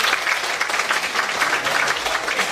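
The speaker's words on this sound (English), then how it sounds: "I request all of you to give a big clap to Mr." Audience applause at an international conference of MSME members: dense, steady clapping from a crowd, loud and close, sustained evenly throughout with no gaps.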